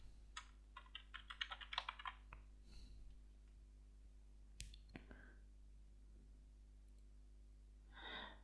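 Soft keyboard typing enters a title on a computer in a quick cluster of clicks, followed by a few isolated keystrokes and a faint breath near the end, all under a low steady hum.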